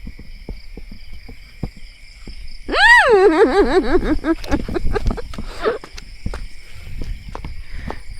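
A single loud, warbling frog croak rises and wavers for about a second by a pool, then fades into scattered quieter clicks and rustles nearby.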